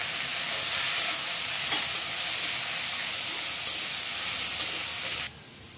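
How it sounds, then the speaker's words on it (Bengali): Chopped cabbage sizzles and fries in hot oil while being stirred, a steady bright hiss with small scraping clicks, close and continuous before cutting off abruptly near the end. "তেলটা গরম হয়ে গেছে, তেলের মধ্যে কেটে রাখা বাঁধাকপিটা ছেড়ে দিচ্ছি।"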